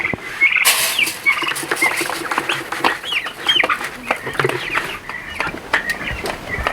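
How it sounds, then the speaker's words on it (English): Baby turkeys and Americana hens cluck and chirp in a turkey pen, a busy close chorus of short calls and peeps with some rustling, no talking. "now we're out in the turkey pen. Got the baby turkeys and Americanas"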